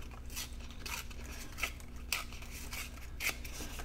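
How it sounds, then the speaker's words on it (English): Paper is torn by hand while making a decorative envelope, giving soft, close ripping bursts in short uneven pulls over a quiet background. "you can tear away from you"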